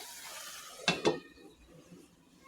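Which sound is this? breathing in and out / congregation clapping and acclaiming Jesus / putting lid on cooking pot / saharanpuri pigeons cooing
putting lid on cooking pot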